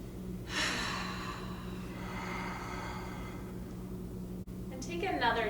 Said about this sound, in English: go ahead and take a big deep breath